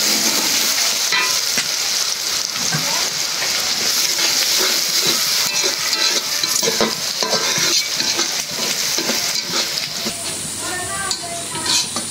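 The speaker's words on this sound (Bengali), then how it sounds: "লাল করে ভেজে দিলাম" Onion, garlic and black cumin frying hard in a pan, a loud, continuous close sizzle with constant stirring scrapes, the hiss roaring throughout.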